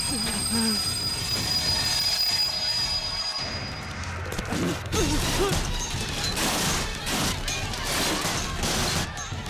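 A train brakes hard with loud, sustained metallic wheel squeals over heavy rumbling and clattering of the cars, with crashing bursts partway through and no clear speech.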